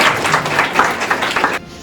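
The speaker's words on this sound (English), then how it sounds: "A big round of applause for them." An audience claps in a brief, dense burst of applause that stays lively for under two seconds before cutting off.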